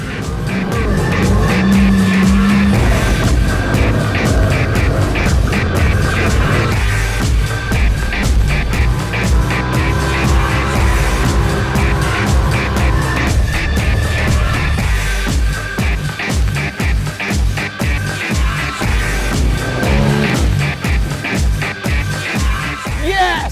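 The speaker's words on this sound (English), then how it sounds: "that guy on the 3-wheeler just pinned it as hard as he could off that" A three-wheeler off-road vehicle launching off a jump in the sand dunes: a loud, continuous engine roar held at high revs with fluctuating pitch, close and dominant throughout.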